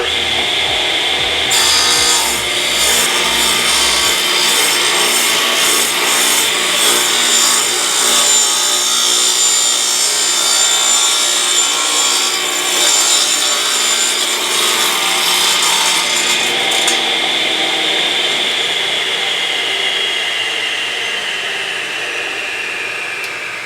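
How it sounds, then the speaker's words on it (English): A radial arm saw cuts across a 2.5 inch thick wooden board in one long, steady, loud pass with a high whine and grinding rasp, fading as the blade finishes the cut. "That's the correct way that I would use the radial arm saw to cross cut a large piece of stock."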